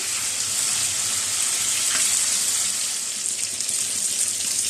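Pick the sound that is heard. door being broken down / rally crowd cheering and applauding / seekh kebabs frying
seekh kebabs frying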